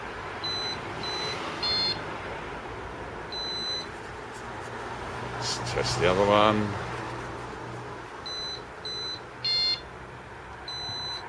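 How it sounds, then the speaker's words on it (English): Short electronic motorbike alarm beeps chirp in clusters during a test over a steady background hum, with someone talking briefly in the middle. "Now we can now test the alarm."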